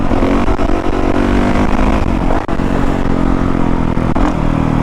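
A 2019 Honda CRF450R dirt bike engine roars steadily and loud while riding in second gear at moderate speed, a continuous close-up drone with slight throttle changes and a brief dip midway.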